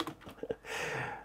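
Typing on a computer keyboard, a few quick, faint, close clicks at the start, then a soft breathy hiss.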